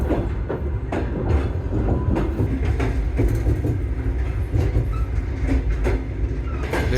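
Soviet-era Prietenia sleeper train running from Chisinau to Bucharest, a steady close rumble of the carriage with rhythmic clickety-clack of wheels over rail joints throughout.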